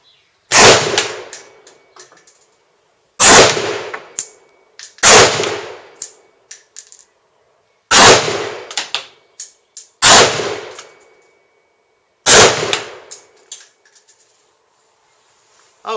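Six sharp, loud gunshots from test-firing wax-lubed Pedersen cartridges ring out one at a time with long silent gaps between them, each leaving a brief metallic ring.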